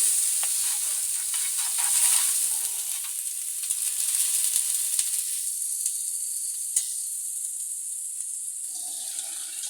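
Homemade butter melting in a hot pan for warming paneer hisses with a bright, steady sizzle that settles and thins out toward the end, close up with no voices.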